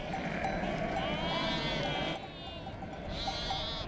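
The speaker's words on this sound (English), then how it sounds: "The Middle East was one of the first places in the world to domesticate sheep." Domesticated sheep bleat out in open desert pastureland in the Middle East, several wavering calls overlapping across a steady bed of flock noise and background ambience, with one louder bleat rising near the end.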